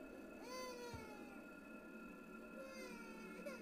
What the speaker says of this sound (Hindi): अब बिल्ली है एक और यहाँ पे